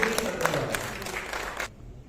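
Audience applause at a literature, cinema and culture festival session, a dense burst of clapping that carries for under two seconds and then stops abruptly, leaving quiet room tone.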